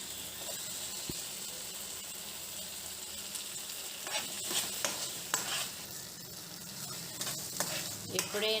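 Onions go into a hot pan and fry for a South Indian curry, a steady close sizzle with bursts of scraping and clinking as a spoon stirs them.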